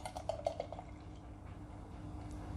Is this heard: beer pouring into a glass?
yes